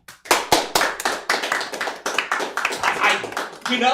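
A studio audience claps for Gabe while Gabe claps along for himself, producing a loud run of sharp, separate hand claps that thicken into an uneven patter over four seconds, with a few voices mixed in.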